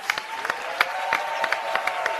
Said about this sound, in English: A round of applause for resistance units.